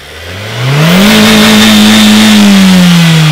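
A Renault RS 220 hp car engine revs up loudly from idle, holds a steady high roar for a couple of seconds, then begins to ease back down, very close.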